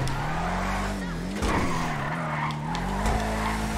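A Bravado Gauntlet Classic muscle car drifts in GTA Online, its tires squealing in a long, loud skid over a droning engine note that rises and dips.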